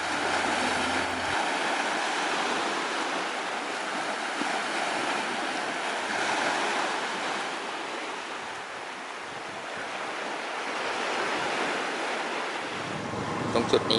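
Sea waves wash continuously onto a beach near Narathat Beach in Narathiwat, beside a fishing community, with steady surf and heavy wind buffeting the microphone throughout.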